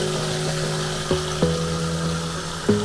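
Water runs steadily through a Python aquarium water changer hooked to a tap, giving a constant hum with several brief clicks or knocks scattered over it, fairly close.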